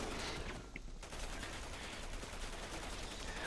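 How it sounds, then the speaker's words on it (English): Gunfire in the game Resident Evil 6: a stream of rapid shots and impacts under a constant noisy backdrop, with a short lull near the start. "he's going all over the place shooting walls."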